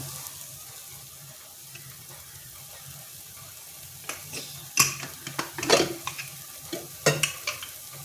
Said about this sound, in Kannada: ಇದು ಸ್ವಲ್ಪ ಹಾಗೆ ಫ್ರೈ ಆಗ್ತಾ ಇರಲಿ